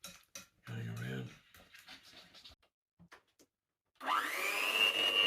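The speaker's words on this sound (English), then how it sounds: "I've decided just to use the blender just to smooth it down a bit" An electric blender whirs loudly for the last second or so, smoothing a cheesecake muffin mixture in a kitchen, after scattered clattering and bumping of bowls and utensils.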